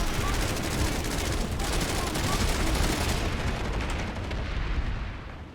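Sustained gunfire and artillery-like blasts from a large battle in the online shooter Planetside 2, a dense continuous roar of overlapping shots at steady loudness with no clear gaps.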